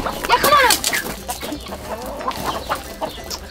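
Chickens on a farm cluck and squawk in agitated bursts while being chased, loud and close, with excited voices of people talking in the background.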